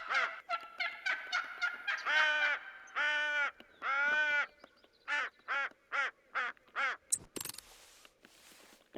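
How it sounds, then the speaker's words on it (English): Loud, close crow calling used while turkey hunting: a long run of harsh caws, some quick and clipped, others drawn out in rasping bursts, with brief gaps between them and no talking. "So I decided to go back over to the crow call."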